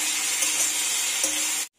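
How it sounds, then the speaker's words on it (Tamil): Bitter gourd sautéing in a hot pan for a poriyal side dish, a steady close, bright sizzle with faint stirring scrapes, cutting off abruptly at the end, no talking. "இப்போது பாவக்காயை நல்லா வதக்கி விட்டுக்கோங்க."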